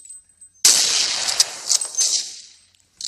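Gunfire in mobile Counter-Strike 1.6: after a faint start, a loud burst of rapid shots begins, with several sharp cracks in quick succession over a short stretch before trailing off.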